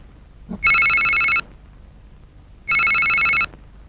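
A telephone rings loudly and close: two electronic bell bursts, each just under a second, separated by a short pause.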